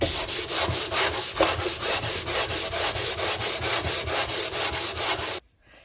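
A wooden radio cabinet has its old lacquer sanded off by hand with 60-grit paper in quick, even back-and-forth strokes, about twenty-five rhythmic rasps close up before stopping abruptly.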